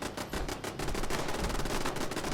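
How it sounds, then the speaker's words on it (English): In Fallout 76, eight turrets fire at an enemy in rapid, dense bursts of overlapping gunfire, loud and continuous with no pauses. "I got 8 turrets shooting at that guy"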